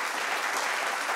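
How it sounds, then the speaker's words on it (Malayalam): A studio audience at a televised comedy show claps in loud, dense, continuous applause. "ആ പയ്യൻ ഒരു ഗംഭീര കൈയടി കൊടുക്കണം കേട്ടോ"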